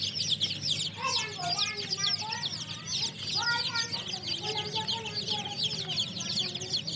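Local chickens and chicks cluck and cheep at a poultry farm and hatchery, with close, repeated clucks over a busy layer of high peeping, and a voice talks faintly beneath.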